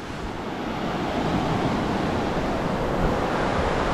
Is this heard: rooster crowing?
no